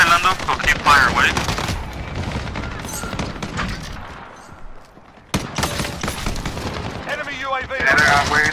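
FAL rifle fire in Call of Duty: Modern Warfare, close-quarters bursts of rapid shots with booming reports, mixed with other game noise and someone talking throughout.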